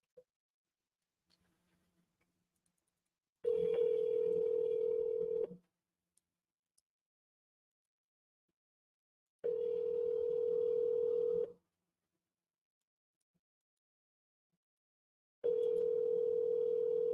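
Office landline phone line tone, three identical steady tones about two seconds long separated by roughly four seconds of silence, clear and alone with no talking.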